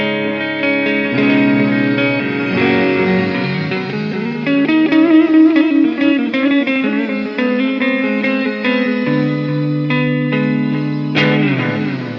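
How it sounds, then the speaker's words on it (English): Chords and melodic lines on an electric guitar pass through a Flamma Cymi pedal set to analog delay plus shimmer reverb in a POD Go effects loop, loud and continuous, each change trailing echoes and an airy, glistening wash. "I like both the delay and the shimmer reverb on that one."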